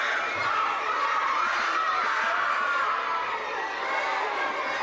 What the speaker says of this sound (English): Crowd urging this fight to get back going.